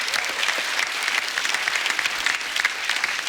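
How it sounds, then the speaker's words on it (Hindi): Studio audience on The Kapil Sharma Show, a comedy show, breaks into steady, dense applause, a continuous wash of many hands clapping up close with no break for the whole stretch. "जोरदार तालियां उनके लिए।"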